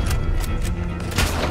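Gunfire in Red Dead Redemption 2 comes as a few sharp, loud shots in quick succession, the sharpest burst near the end, over low ambient game noise.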